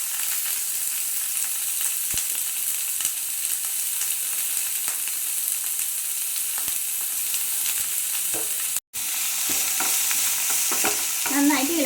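Finely chopped onions fry in coconut oil for a pepper egg curry, a loud continuous sizzle with spoon strokes through it and a brief dropout near the end.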